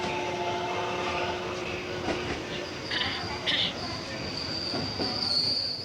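A commuter train runs along a railway in Japan, with a continuous rumbling roll, high metallic wheel squeals and ringing tones, steady and fairly close throughout.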